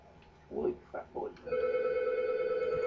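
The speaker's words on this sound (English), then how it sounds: "That freaking phone!" Telephone ringing in the video game Portal 2, a steady sustained electronic ring that starts abruptly after a few short vocal sounds and continues alone at moderate loudness.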